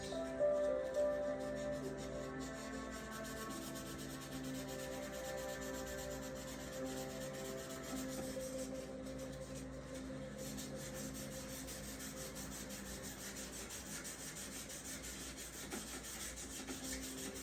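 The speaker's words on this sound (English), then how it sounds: "I would take a 400 grit sandpaper and just use it to get all the really rough" Steady, rhythmic rubbing of 400-grit sandpaper on brass, close and continuous, with a faint background hum.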